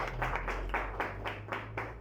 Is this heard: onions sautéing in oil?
no